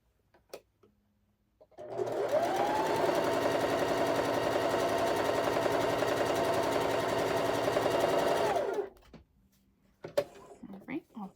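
Sewing machine stitching a cat quilt block, running as a steady rapid mechanical whir for about seven seconds with a slight pitch rise at the start and fall at the end, close up, with brief handling noises and a voice around it.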